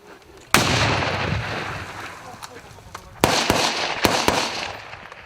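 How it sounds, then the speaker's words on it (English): Sharp blasts from a live-fire military training exercise, with grenade explosions among them: one loud bang early on, then a cluster of closer cracks and booms later, each trailing into rumbling reverberation over steady background noise. "He's about to throw a grenade."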